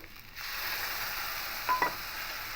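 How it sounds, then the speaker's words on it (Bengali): Spices, Kashmiri chilli powder and tomato paste being stirred into a pan of banana flower curry: a steady soft sizzle with a couple of brief scraping knocks near the end, no talking. "দিয়ে ভালো করে মিশিয়ে নেব"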